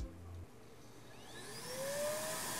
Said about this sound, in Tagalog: ang una pong gumagana dito na speed niya sa ating motor ng vacuum ay ang kanyang eco mode